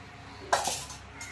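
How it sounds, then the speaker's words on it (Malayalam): Coconut oil poured into a pan on the stove for frying cutlets: one brief close splash and hiss, faint and soft, in a quiet kitchen. "വെളിച്ചെണ്ണ കുറച്ച് വെളിച്ചെണ്ണ അതിലേക്ക് ഒഴിക്കുക."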